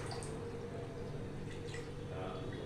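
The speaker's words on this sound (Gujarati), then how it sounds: "સાઈડમાંથી આવી રીતે થોડું થોડું પાણી નાખી દઈએ." Water trickles in small amounts into a malai kofta curry mixture, soft drips and light pouring against a steady background hiss.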